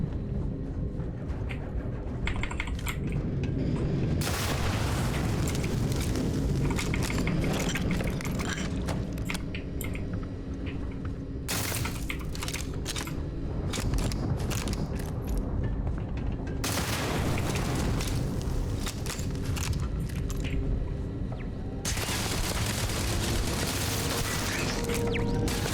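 A weapon fires rapidly in Starfield with a dense, loud, continuous barrage of shots and booms. The fire surges in waves with no pauses.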